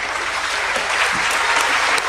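A short burst of audience applause at a Mexican education presentation, a continuous wash of clapping held evenly for about two seconds.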